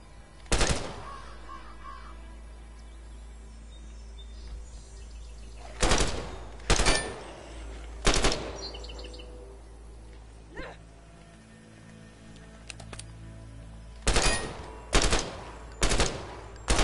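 Sharp gunshots in The Last Stand: Aftermath on PS5 come as isolated bursts of one to three cracks spread across the stretch, loud against a low, steady game background.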